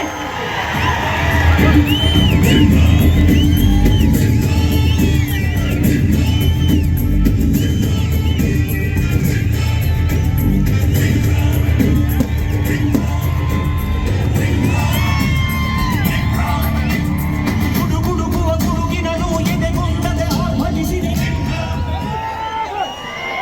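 A large rally crowd cheers, whoops and yells continuously as Hindu leader Basanagouda Patil Yatnal arrives to address the event. The roar is loud, dense and sustained throughout, with shouts rising out of it.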